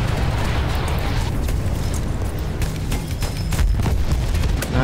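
Explosions and heavy battle noise in the World War I shooter Battlefield 1, a dense, loud rumble of blasts and booming artillery-like bursts, continuous and close, with no clear speech.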